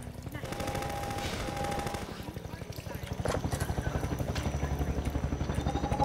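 Rapid automatic gunfire in the video game Half-Life 2, a fast repeating burst that starts midway and keeps going steadily and fairly loud over game sounds and ambience.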